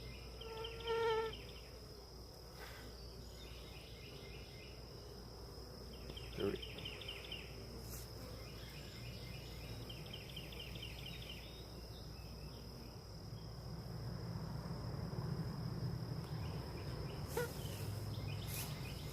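Honey bees humming around an open hive during a queen check, a steady, fairly faint buzzing drone throughout, with occasional handling bumps and a slight swell toward the end.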